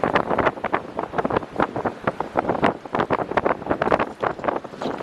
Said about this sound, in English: the wind will blow you over as soon as you go down